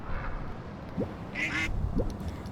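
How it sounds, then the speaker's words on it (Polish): A duck in the video game Little Kitty Big City gives a couple of short, quiet quacks about a second apart over a soft game background. "Jakaś kaczka."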